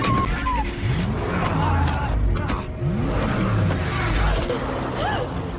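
A car speeds away from a village, tyres skidding and engine revving under a layer of shouting crowd noise and talk, loud and close throughout.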